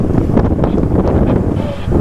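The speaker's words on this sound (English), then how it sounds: "Wind's picking up, nice." Wind picks up on an Island Packet sailboat motoring up the East River, a loud gusty rush of wind across the microphone with a low rumble of boat and water beneath, no voices.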